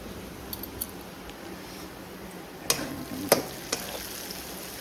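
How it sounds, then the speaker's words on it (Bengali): Chopped onions fry quietly in a pan as a faint, steady sizzle, with a few sharp scrapes and clinks of a spoon stirring them. "এখানে পেঁয়াজটা ভাজা ভাজা হয়ে গেছে, এটার মধ্যে রসুন এই আদা দেবো"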